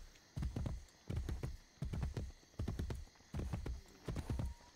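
Video game hooves from Assassin's Creed Brotherhood clop in a steady, repeating rhythm, paired hoofbeats falling in even cycles as a horse walks, clear and close over a faint hum.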